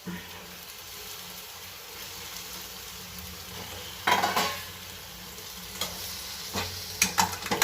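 Chicken goes into frying tomato masala in a pan, giving a low, steady sizzle broken by sharp spoon scrapes and stirring strokes, which come most noticeably midway and toward the end.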